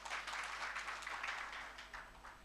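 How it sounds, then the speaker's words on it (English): Scattered, half-hearted clapping from an audience at a child and adolescent global health research forum, a loose patter of hands that stays fairly steady and faint throughout. "I've been hearing half clapping."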